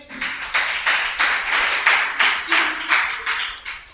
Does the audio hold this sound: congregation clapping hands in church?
yes